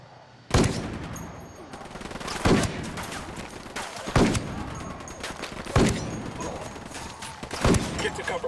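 Semi-automatic sniper rifle fires in the video game Ghost Recon Wildlands: five loud, sharp shots spaced about one and a half seconds apart, each trailing a short echo over a low ambient background.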